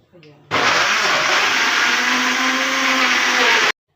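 A Moulinex kitchen blender switches on with a sharp start after a brief faint noise, then roars loudly and steadily close by for about three seconds before cutting off suddenly.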